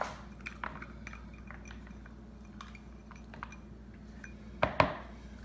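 About half a cup of diced red onion tossed into a salad bowl in a quiet kitchen: a few faint light taps, then a brief, sharper clatter and patter near the end.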